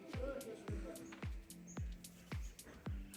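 Laughing thrushes call in the early morning at a Himalayan forest camp on the Mardi Himal trek, a flock giving sharp, repeated chirps about every half second, fairly close and clear against quiet surroundings.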